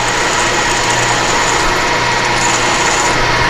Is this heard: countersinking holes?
yes